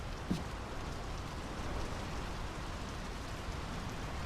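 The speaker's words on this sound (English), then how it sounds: "The rain's picking up." Steady rain falls in the video game Draugen, a dense, even hiss holding at one level throughout with a faint tap near the start, no voices over it.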